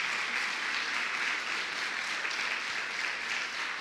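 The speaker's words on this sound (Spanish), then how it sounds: "Dale un aplauso al Señor esta mañana" A church congregation claps together in a continuous, even wash of applause, fairly soft and distant, with no voices rising above it.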